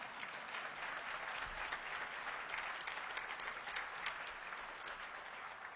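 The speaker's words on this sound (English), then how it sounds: "you can clap for that." Sustained applause from a conference audience at a union legislative gathering, a steady, dense wash of many hands clapping at moderate distance, continuing evenly without speech.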